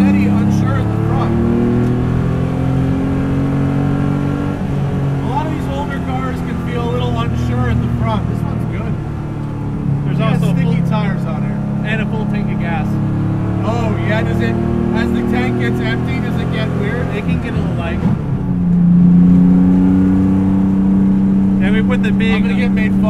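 A race-raced, rat-rodded 1970 Porsche 911 flat-six heard from inside while driving, engine droning and rising through revs with gear shifts, loud and close under ongoing talk.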